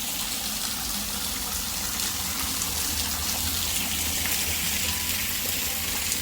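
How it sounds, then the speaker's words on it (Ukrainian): Water from an artificial rock waterfall in a botanical garden on Phuket pours steadily, a dense continuous splashing rush heard up close with no talk. "Імітація скали з водоспадом."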